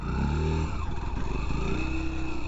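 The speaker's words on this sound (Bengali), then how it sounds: "এখানে আমি একটু ফুল রেভে বের হয়ে যাওয়ার চেষ্টা করব দেখি কি হয়" A Yamaha FZS Hybrid motorcycle launches at full revs with traction control on, its engine note loud and close as the pitch holds high and then shifts.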